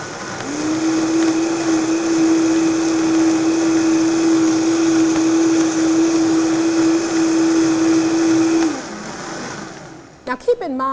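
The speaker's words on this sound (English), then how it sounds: "So we're going to go ahead and blend again. Again, we're going to start low on the variable speed" A blender whirs steadily through raw tomato soup at a low, even speed for about eight seconds, loud and close, then cuts off, followed by a few sharp clicks.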